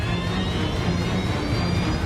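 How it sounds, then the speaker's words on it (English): A KLM jet airliner roars down the runway in a dramatized crash scene, a steady, dense engine rumble and whine holding at a constant level for a couple of seconds. "Captain Grubbs tries to steer clear of the oncoming KLM"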